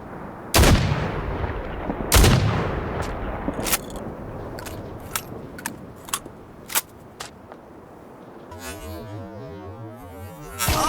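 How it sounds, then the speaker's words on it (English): King's Arms double-barrel shotgun firing in the game Sniper Ghost Warrior Contracts 2, two loud booming blasts followed by a series of sharp mechanical reload clicks and clacks. "The King's Arms is a double barrel that serves as one of 2 shotguns that use the sidearm slot."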